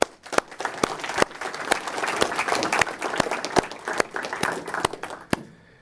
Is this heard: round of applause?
yes